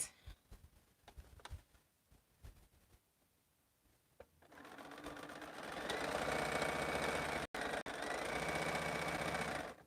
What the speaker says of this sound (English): I was just sewing